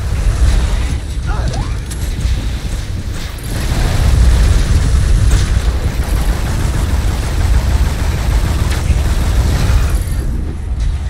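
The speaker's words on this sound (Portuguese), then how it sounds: "Acho que foi uma metralhadora, né?" Sustained machine gun fire in the video game Advent Rising: a dense, loud, continuous burst of rapid shots with mechanical clatter that carries on for the whole stretch without a break.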